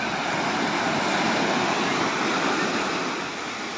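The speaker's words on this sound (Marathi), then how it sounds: "आणि हे लाटांचा आवाज" Sea waves break steadily on the shore at Girgaon Chowpatty beach in Mumbai, a loud continuous roaring wash with no voices over it.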